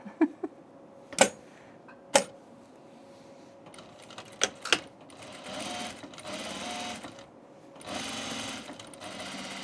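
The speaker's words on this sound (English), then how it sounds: "who's gonna unsubscribe if I machine stitch the hole shut?" A sewing machine stitches a hole shut in a tunic, starting with a few sharp clicks and knocks before running in short, whirring bursts up close.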